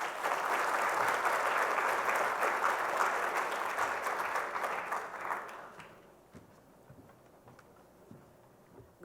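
Steady applause from a conference audience greeting a speaker at closing remarks, loud and dense at first, then fading away over a few seconds into near silence with scattered faint claps.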